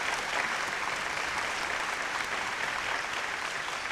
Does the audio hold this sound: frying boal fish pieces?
no